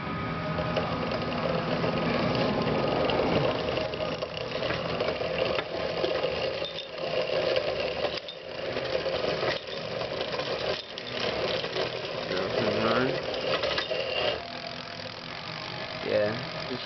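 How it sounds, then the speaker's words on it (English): Tight chain running on a mechanism, giving a steady ratcheting, clicking mechanical rattle that continues close and fairly loud throughout, with brief dips in level. "I'm trying to get how this chain is moving here."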